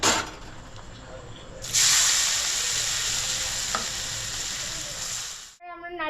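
Onions hit hot oil with a sudden loud sizzle that settles into a steady, hissing fry, close and continuous.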